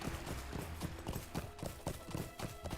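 Hooves of a glittering festival horse mount in the Lord of the Rings Online game clip-clop in a steady, continuous rhythm, fairly close and moderately loud with no talk over them.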